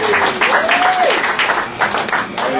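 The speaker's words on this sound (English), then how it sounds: "Get a bunch of applause on that one." Audience applause breaks out at a roast, a full, close burst of many clapping hands with a rising and falling whistle cutting through early on, holding steady throughout.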